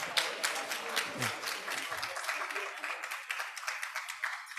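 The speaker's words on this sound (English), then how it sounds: "Please welcome Dr. Fernando Macedo with a big round of applause." Audience at an aesthetics and exosomes summit applauding to welcome a session moderator, brisk clapping that stays steady while some low crowd noise drops away partway through.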